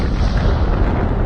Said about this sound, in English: there was a nuclear explosion out over the Pacific Ocean